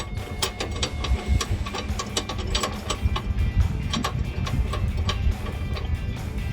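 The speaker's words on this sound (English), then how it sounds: "I'll come back through with that 13mm ratchet" A 13mm ratchet tightening bolts on Barricade side step bars for a 2019-2021 Silverado or Sierra 1500, rapid steady clicking under a low mechanical rumble, close and continuous.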